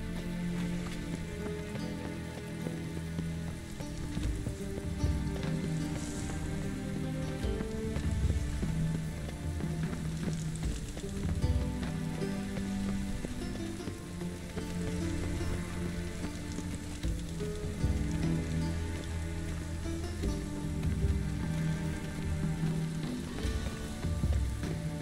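Steady rain falls throughout a rainy city scene in The Witcher 3: Wild Hunt on PC, a continuous dense patter of drops on surfaces with a faint low background drone and no talking.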